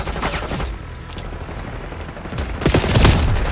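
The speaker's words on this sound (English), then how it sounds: "Under fire." Gunfire in the Call of Duty Black Ops 6 multiplayer video game: rapid bursts of shots crackle and pop densely, growing heavier and louder toward the end, with no clear talk.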